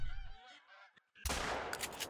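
Ducks calling in the hunting video game theHunter: Call of the Wild, on the Revontuli map, a few harsh honking calls up close, followed by a burst of broadband noise toward the end.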